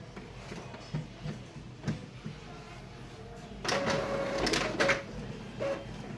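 Home photocopier printer whirring and clicking after its button is pressed, a faint mechanical run with a louder feed burst near the end, with quiet talking around it.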